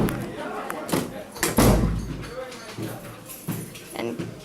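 A manual elevator door on a hydraulic wheelchair lift in a church slides shut with a heavy thud near the middle, surrounded by a few lighter knocks and rattles, while people talk nearby.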